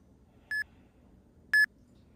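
Two short, clean electronic beeps from a workout timer sound about a second apart against near silence.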